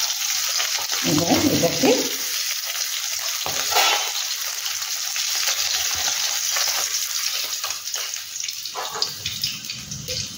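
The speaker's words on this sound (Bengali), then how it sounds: "এভাবে আমি এগুলোকে দিয়ে পরপর আমি ভেজে নেব" Pieces of amudi freshwater fish fry in hot oil with a steady, close hiss, cooked Bengali style, with a few utensil knocks and a brief spoken remark over the sizzle.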